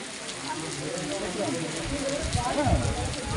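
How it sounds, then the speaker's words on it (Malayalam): Steady, dense rain hiss pours down continuously, with faint low murmuring underneath. "നല്ല മഴ"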